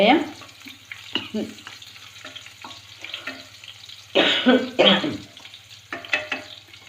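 Cumin, garlic and onion frying in a pan for veg tikki, with soft, intermittent sizzling and scraping stirs, and a few louder bursts as ingredients are added, under occasional talk.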